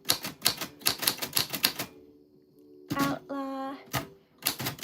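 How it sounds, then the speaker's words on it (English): Rapid clacking keystrokes of a typewriter in bursts, with a pause where a ringing bell and carriage sound, then more typing; a person speaks briefly between strokes. "we are going to be typing away"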